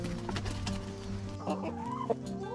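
A young Suro rooster and American hens, kept in a pen with a Rhode hen, cluck and squawk in close, busy bursts.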